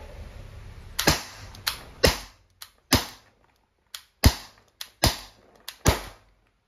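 Umarex T4E TR50 CO2-powered tactical revolver firing, about a dozen sharp, close cracks in an uneven rhythm with short pauses between shots and silence in the gaps.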